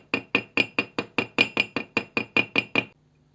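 A small hammer strikes thin wire being flattened for a pearl ear cuff, giving about thirteen close, sharp metallic taps in an even, brisk rhythm before stopping.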